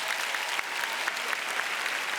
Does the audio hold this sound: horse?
no